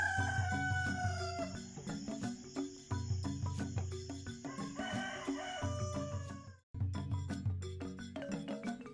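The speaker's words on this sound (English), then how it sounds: "Rocky is the confident rooster who wakes everyone up with a cheerful crow in the morning." A farmyard rooster crows loudly and close, several drawn-out calls in a row with clucking hens around and a short pause before the last crow.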